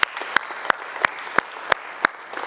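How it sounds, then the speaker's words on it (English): A crowd at a college talk on starting a business claps in a slow, even rhythm, with sharp, regular beats about three times a second, moderately quiet and with no voices over it. "So go ahead and give yourselves a round of applause."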